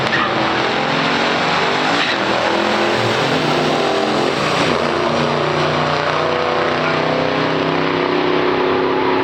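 A 1964 Impala Super Sport's 327 V8 engine (300 horsepower) roars continuously throughout in a pure stock drag race, with a steady dense rumble and occasional tire squeal.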